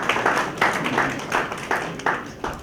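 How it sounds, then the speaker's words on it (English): Clapping from an audience at a trade and business event, a steady patter of hand claps with regular swells, moderately loud and fairly close. "So acknowledge yourself with a warm round of applause."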